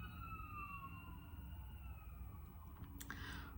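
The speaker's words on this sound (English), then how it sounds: "the ambulance is going by." An ambulance siren passing by outside, faint and distant with slowly falling wails over a steady low background rumble, no talking.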